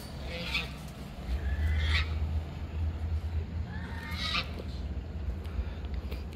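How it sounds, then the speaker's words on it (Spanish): Ducks on a farm raising an alarm, a few sharp honking quacks in short bursts over a low rumbling background, moderately near. "Los patos son una alarma, o sea, estos patos cuando están acá y alguien va bajando, dicen a hacer la bulla."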